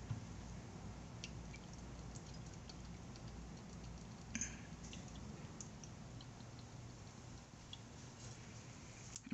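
Brake fluid drips steadily while the brakes of a 2015 Nissan Quest are bled, a faint irregular ticking of drops over a low background hum in a quiet garage.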